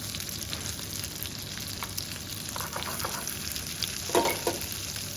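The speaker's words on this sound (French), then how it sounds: "Là, vous voyez les gnocchis sont en train de colorer délicatement" Gnocchi browning gently in a hot pan give off a steady, close sizzle and fry crackle, with a few louder spatters and stirring clicks near the end.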